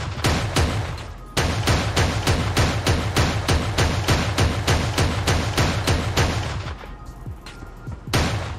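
Double-barrel shotgun in the video game Creative Destruction fires loudly and alone in a rapid, steady run of heavy blasts with one brief pause, about twenty shots in all.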